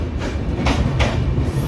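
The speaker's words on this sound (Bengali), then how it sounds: "প্ল্যাটফর্ম নাম্বার 3-তে আমাদের কোনার্ক এক্সপ্রেস ঢুকছে।" The Konark Express (11020 Up, Bhubaneswar–Mumbai) rolls into platform 3 at Khurda Road station in Odisha. A steady, close rumble carries a few rhythmic wheel clacks throughout.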